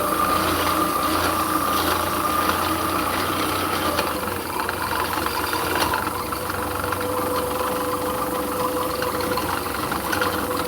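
Braided fishing line winding onto a reel spool, a steady mechanical whirr with fine ratcheting texture running continuously and fairly loud, with no talk over it.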